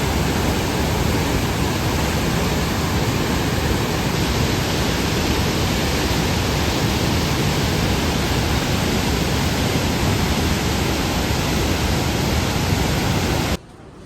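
The Ganga rushes at Gangotri as a loud, unbroken roar of water, steady and close throughout before cutting off abruptly at the very end.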